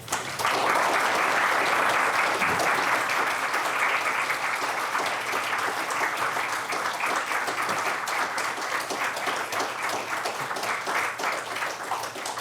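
Sustained applause from a lecture audience at Cornell welcoming poet and scholar Fred Moten, a dense, steady wash of many hands clapping that holds evenly for the full stretch without letting up.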